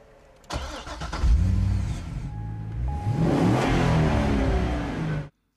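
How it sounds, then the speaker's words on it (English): A 7-litre small-block V8 in a Corvette Z06 fires up with a sharp burst, then settles into a loud, throaty idle with a few blips of the throttle before cutting off. "The Corvette Z06 modest V8 small block has a capacity of 7 litres."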